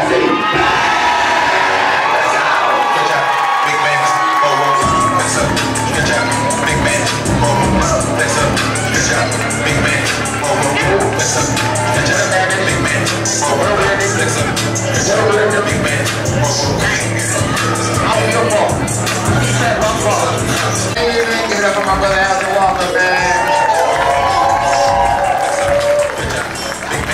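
A comedy show audience cheers and whoops continuously, a dense, loud crowd roar with scattered clapping and shouts, and a host's voice calling out over it.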